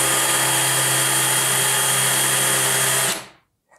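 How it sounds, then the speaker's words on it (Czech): A power drill runs at a steady high whine with a constant motor buzz, loud and close for about three seconds before spinning down and stopping, with no talk over it. "Ať to udělá třeba vrtačka. Vrtačka to udělá líp."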